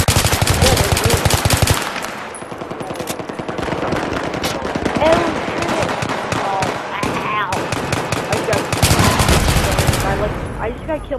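Automatic rifle fire and explosions in the video game Battlefield 3, with dense, rapid bursts of gunshots that continue almost without a break and peak in loud volleys at the start and near the end, with a player talking over them.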